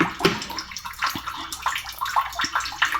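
Running water splashes into a container at home, a close, continuous burbling and splattering that stays fairly steady for the whole stretch.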